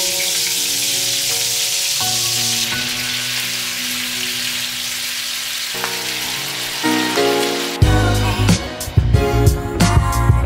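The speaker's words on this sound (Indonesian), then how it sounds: "Udang udah direndam, saatnya kita goreng." Soaked shrimp hit hot oil and fry, a loud crackling sizzle that starts softly amid background music and bursts louder near the end as more goes in.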